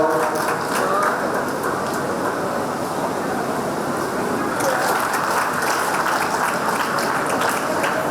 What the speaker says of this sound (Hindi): तालियां बढ़ती रहनी चाहिए।